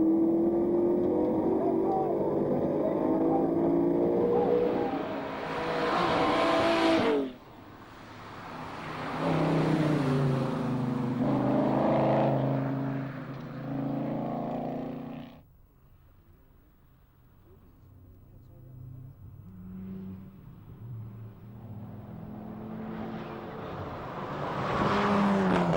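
Ford and Holden rally cars race along a tarmac TARGA Tasmania stage between Strahan and Queenstown, engines roaring past at close range, fading away and swelling again as more cars approach. A commentator talks over much of it.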